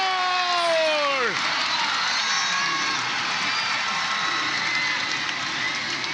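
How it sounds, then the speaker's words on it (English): Volleyball arena crowd at an Alas Pilipinas vs Thailand match, a loud, wide, steady roar holding for several seconds after a brief falling tone at the start. "And listen to this crowd"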